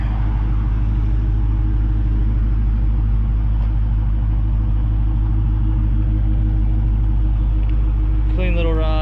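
Engine of a 2019 Dodge Charger with 25,000 miles, idling in a steady low rumble throughout at close range, with people talking over it and a brief higher whine near the end.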